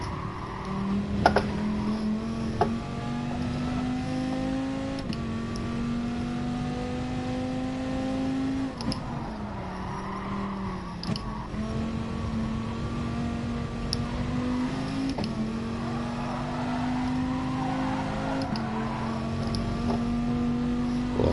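Racing car engine in the Gran Turismo video game on a hot lap, a steady loud drone with shifting pitch as it revs up and down through gears over about twenty seconds, with brief dips at shifts.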